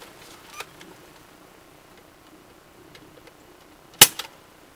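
A toy blaster fires once with a quick trigger pull: a single sharp, loud snap with a brief rattle comes near the end, after several seconds of faint room quiet.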